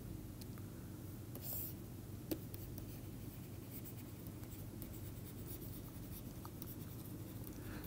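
Faint scratching and tapping of writing on a board during a tissue engineering lecture, soft and intermittent over a steady low room hum, with no talk.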